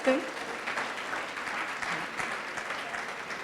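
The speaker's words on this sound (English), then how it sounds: "Do you think you should clap and admire that?" Steady applause from a spiritual talk audience, a dense even patter of many hands that holds at moderate level for a few seconds with some faint voice mixed in.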